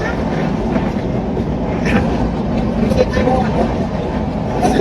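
Steady rumble and rattle inside a moving train on the Latur to Pune line, a dense continuous drone with faint clatter throughout, while a voice talks over it.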